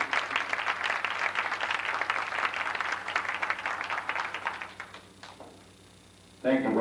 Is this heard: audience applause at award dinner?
yes